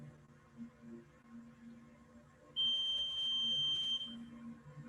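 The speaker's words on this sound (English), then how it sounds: "I'm going to turn on my timer here." A steady electronic timer tone starts partway through, a sustained high beep lasting about a second and a half over quiet room hum, set for a paced breathing exercise.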